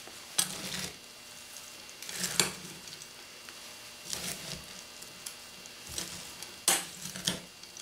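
Dry coleslaw ingredients with chopped cabbage are tossed in a bowl, giving five soft, brushing scrapes spaced a second or two apart over a quiet room.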